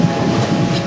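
Panama Canal Railway train rumbling along the rails with a loud, continuous low roar and steady rolling noise, heard from on board.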